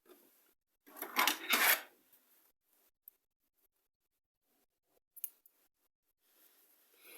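Scissors snip through crochet yarn close up: a quick cluster of sharp, scraping cuts, followed by a long quiet stretch broken by faint clicks and one more small snip.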